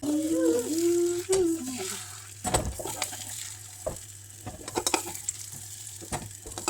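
Tuna and egg sizzle in a non-stick frying pan, a steady frying hiss with scraping stirs and light utensil taps. A voice speaks briefly near the start.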